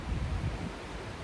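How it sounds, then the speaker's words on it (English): Wind buffets the microphone in a low, steady rumble of gusty noise for a brief moment. "It's really windy actually."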